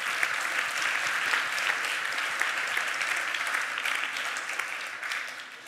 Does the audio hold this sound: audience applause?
yes